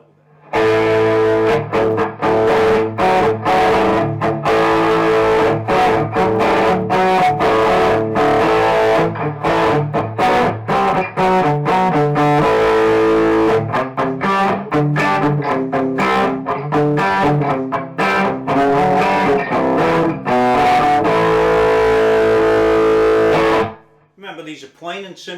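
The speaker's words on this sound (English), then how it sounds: "Distortion, fair bit of gain, back it on the pedal a bit." Electric guitar played through a Boss GT-1000 amp-simulator pedal on a high-gain distortion preset, loud sustained chords and riffs running continuously for over twenty seconds before cutting off abruptly near the end.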